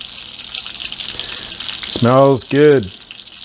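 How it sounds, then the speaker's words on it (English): Stuffed pork loin chops sizzle in a frying pan with a steady, close crackling hiss, while a person briefly speaks partway through. "I've finished pan frying them"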